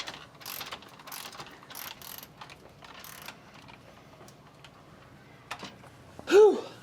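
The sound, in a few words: tightening suspension studs with ratchet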